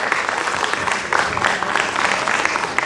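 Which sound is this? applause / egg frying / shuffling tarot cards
applause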